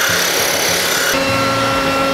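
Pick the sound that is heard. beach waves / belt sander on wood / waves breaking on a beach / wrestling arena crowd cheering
belt sander on wood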